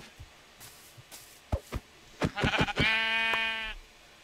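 Sheep bleating in the Minecraft video game: a few short clicks and thuds lead into a loud, drawn-out wavering bleat near the end, with no talk.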